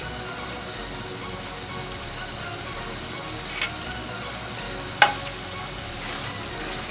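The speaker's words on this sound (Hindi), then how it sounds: "इसमें 1/2 कप ऑयल डलेगा, और ये खड़े गरम मसाले डलेंगे" Whole garam masala spices sizzling in half a cup of hot oil for fried mutton: an even, continuous crackling hiss at moderate volume, broken by a couple of sharp ticks near the end.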